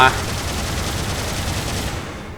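A 90-round vulcan gun from the Ma-II family fires in Gundam Battle Operation 2, a steady, loud, continuous stream of rapid shots that holds for about two seconds and then cuts off.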